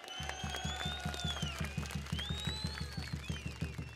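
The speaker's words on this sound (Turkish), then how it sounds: "Kemal Kılıçdaroğlu'na bir alkış yapar mıyız?" A rally crowd in Manisa applauds Kemal Kılıçdaroğlu with rhythmic, thumping claps in a brisk, regular beat, while whistles sound on top and the crowd murmurs in the background.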